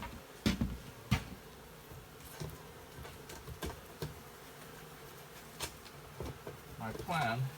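Honey bees in an overcrowded observation hive give a steady low buzz, with a few louder close passes and some brief tapping sounds. A rising whine comes in near the end.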